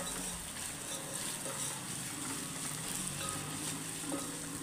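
Ingredients for tomato pepper rasam, including dried red chillies, roast in a pan with a soft, steady sizzling crackle, close and quiet and unbroken for a few seconds.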